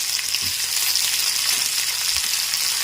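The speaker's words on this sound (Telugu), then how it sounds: "ఈ వాక్కాయ ముక్కలు చక్కగా మగ్గుతాయి అన్నమాట మిరపకాయలతో పాటు" Karonda (vakkaya) pieces and chillies fry in hot oil with a steady, close hiss of sizzling, broken by a few soft stirring bumps, and no one speaks.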